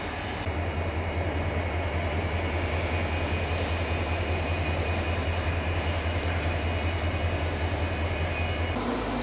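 An Ahmedabad to Vadodara MEMU local train rumbles loudly and steadily with a strong low drone and a continuous roar, briefly shifting in tone near the end.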